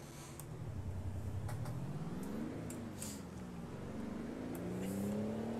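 A truck engine in American Truck Simulator hauling an East Genesis end dump trailer drones low and steady, pitch sagging and climbing through gear changes before a final rising pull, moderately loud with no speech.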